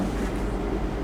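A truck engine idles at a fairly low level, a muffled low rumble with a faint windy hiss above it, steady and without voices for a brief moment.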